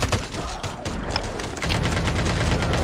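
Dense, continuous automatic gunfire aimed at zombies in Call of Duty Mobile zombie mode. The shots are loud and close, forming an unbroken fusillade throughout.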